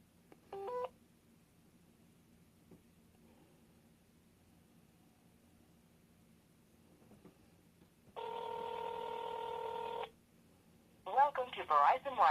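Phone activation call tones on a Samsung Gear S smartwatch with Verizon: a short dialing beep, then a long steady multi-tone burst lasting about two seconds, followed by an automated voice starting to speak.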